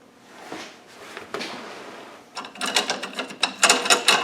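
Rear aluminium light on a 2016 Land Rover Defender 110 being shaken by hand, starting quiet and building into a series of sharp, close rattling clicks in quick bursts toward the end.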